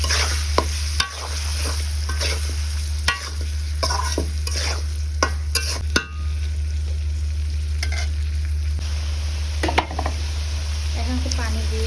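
Small desi chicken pieces tossed into well-fried spice masala in a pan, a continuous sizzle broken by repeated scraping stirs and occasional clinks of the spoon against the pan.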